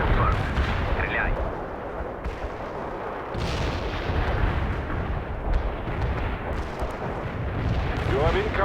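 Artillery barrage in the World in Conflict video game, a dense continuous rumble of heavy booms and blasts that keeps up the whole time with a faint voice under it.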